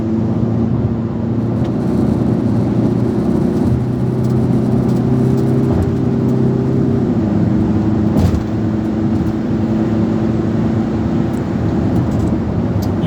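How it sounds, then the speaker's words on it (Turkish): A 2013 Ford Mondeo 2.0 TDCi diesel engine hums steadily from inside the cabin, its tone rising slightly as it revs toward 4500 rpm, with road noise underneath. "Basalım biraz. ...4500'e kadar çeviriyor, 4000'den sonra boş çeviriyor."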